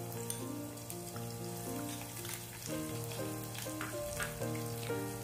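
Chopped garlic, ginger and green chillies sizzle in oil for a spiny gourd dry sabzi, a soft continuous frying crackle with scattered pops and faint clinks, no talking.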